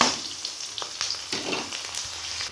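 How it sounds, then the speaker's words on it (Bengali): Chopped onions hit hot oil in a wok, giving a brief, close, continuous crackling sizzle with small spattering pops. "তেলটা গরম হয়ে গেছে, পেঁয়াজ কুচিগুলো দিয়ে দেব।"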